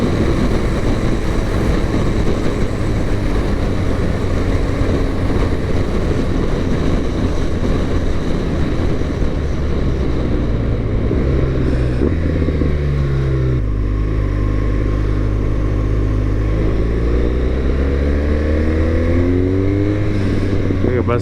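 A motorcycle engine revs hard and steadily for about twenty seconds, loud and close, its pitch climbing and dropping as the rider tries to pull a wheelie; someone talks over it.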